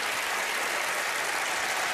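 A dense, continuous wash of applause from a studio audience at a magic show, steady and loud throughout with no individual claps standing out.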